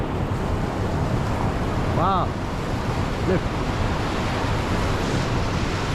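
Svartälven river rushing beneath a bridge in Hällefors, Sweden, a steady broad roar with wind buffeting the microphone, while someone speaks briefly over it.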